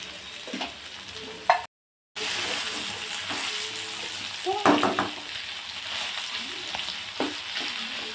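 Ivy gourd with tamarind for chutney cooks in a pan with a steady low sizzle, broken by a few clinks and stirring scrapes and one brief dropout of sound.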